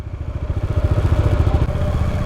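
A motorcycle cruises along a highway at night, its engine thrumming in a steady pulsing drone close by, with wind rumble and no talking.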